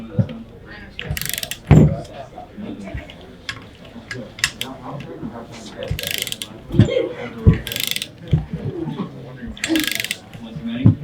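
Motorcycle handlebar bolts being tightened with a ratchet during a 14-inch handlebar install, giving repeated close metallic clicks and clanks in short bursts, with someone talking between them.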